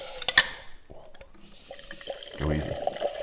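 Nitro cold brew coffee poured from a charged dispenser into a glass, a soft liquid hiss and splash building toward the end, preceded by a brief clink and quiet handling noises.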